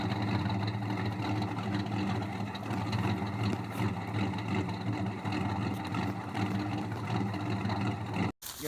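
A car engine with welded dual exhaust and Super 10 mufflers on both sides rumbles at a steady, deep idle, loud and continuous throughout before a brief cut near the end.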